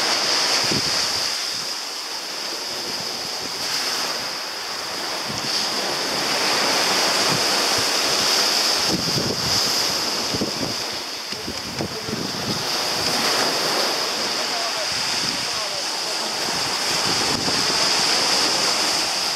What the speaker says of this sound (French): Ouh, l'eau qui